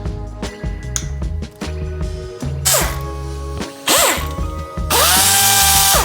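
An impact wrench fires in several short, loud hammering bursts, getting longer and harsher toward the end, with whirring spin-ups between.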